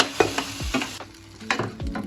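Taro leaf curry being stirred in a pan, with a quick series of scraping, sizzling strokes and soft knocks of the utensil against the pan, close and fairly loud.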